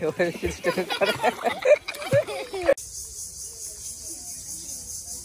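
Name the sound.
crickets chirping in a village at dusk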